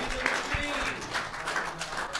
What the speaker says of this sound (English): Give everybody a warm round of applause over here for Richard and John Weberg.